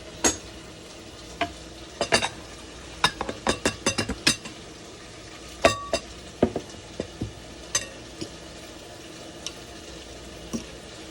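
A spoon stirring and mixing chopped mint, green chillies and onion in a bowl, with sharp scraping knocks in irregular bursts over a soft hiss.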